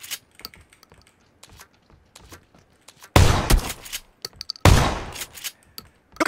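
Shotgun blasts in PUBG Battlegrounds: two loud, close booming shots a second and a half apart, each with a short rumbling tail, over scattered faint clicks and footstep-like taps.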